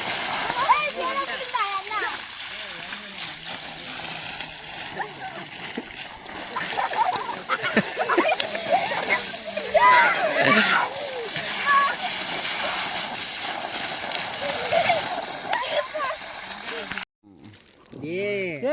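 Water splashing and sloshing as someone bathes, with talking voices heard throughout over the irregular splashes.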